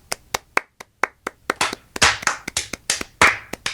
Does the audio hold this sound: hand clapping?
yes